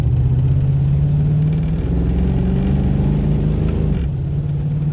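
A rescued V8 Mustang, sitting for 22 years with a carburetor needing work, idles with a deep, loud, steady rumble, its pitch rising slightly as it revs and then settling back.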